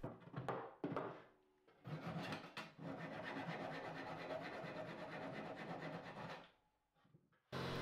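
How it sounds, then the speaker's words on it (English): Rhythmic rubbing and rasping of sandpaper on a wooden hammer rack, a few short strokes then a long continuous stretch, fairly quiet and close. "and then I give everything another sand."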